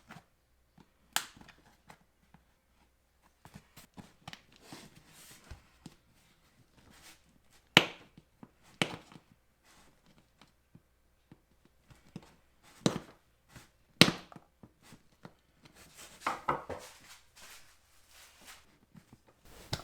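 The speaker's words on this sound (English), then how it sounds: "I used the screwdriver to loosen up the staples and then used a set of pliers here to pull them out" A screwdriver and pliers pry and pull staples from a Honda VF700 motorcycle seat cover on its plastic seat pan, making sparse, irregular sharp clicks and snaps with quiet fiddling between them.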